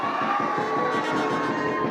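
A rally crowd in Jharkhand applauds and cheers in a dense, loud roar of clapping and voices that holds steady for the whole stretch.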